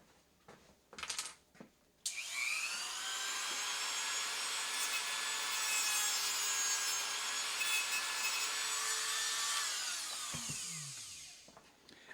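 Plastic PLA cable chain links trimmed with a Dremel-type rotary tool: a steady, loud high-pitched whine runs for about eight seconds after a few brief scraping touches, then winds down near the end.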